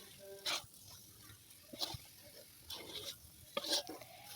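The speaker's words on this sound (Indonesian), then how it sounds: "Dan ini tetap masih saya proses aduk mengaduk sampai memang gulanya itu kering seperti itu." A cassava and palm sugar mixture for taripa cake is stirred in a pan until it dries, giving four soft, scraping strokes spread a second or so apart against a quiet background.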